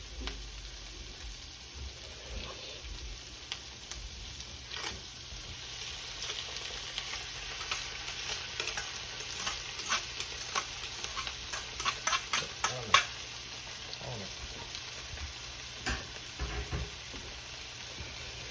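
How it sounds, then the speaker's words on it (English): Lo mein noodles fry in vegetable oil in a pan, a steady crackling sizzle broken by repeated scraping and clacking as a utensil stirs and tosses them, close and continuous. "We're going to need a little bit more vegetable oil in here so that the noodles actually, you know, get coated in it and get some pseudo crispiness."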